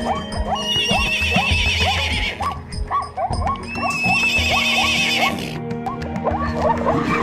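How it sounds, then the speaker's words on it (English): A horse neighs repeatedly in loud, shrill whinnies, with a dog barking and hooves clopping around it. "horse"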